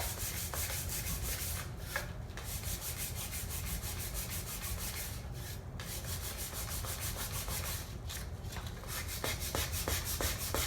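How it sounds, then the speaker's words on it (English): Steady, close hand sanding of wood furniture with a sheet of sandpaper, continuous scratchy rubbing strokes with brief pauses as the paper shifts, then quicker short strokes near the end; no voices. "just kind of get a little bit more aggressive in those areas. Just sand a little bit longer."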